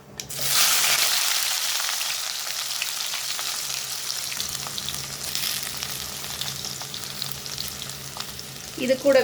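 Sliced large onions hit hot oil with spices, including cardamom, and set off a loud, steady sizzle that goes on throughout, with brief stirring and a short spoken phrase near the start.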